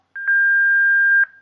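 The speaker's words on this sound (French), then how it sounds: "Laissez votre message après le signal sonore." A voicemail beep sounds on a phone line: a steady electronic tone held for about a second, with short blips at its start and end, loud and alone.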